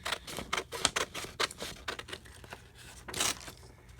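Scissors snip through laminated packing-tape image transfers made from a napkin, a quick series of close, crisp cuts and crinkly tape rustles with brief pauses between strokes, no voices.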